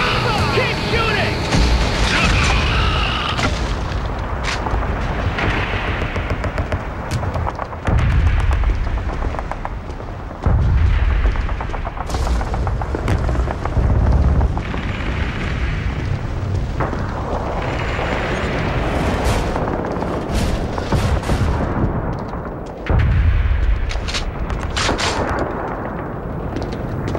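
Gunfire and heavy booming explosions fill a Killzone video game battle, with dense continuous shooting and repeated deep blasts, and voices shouting at times.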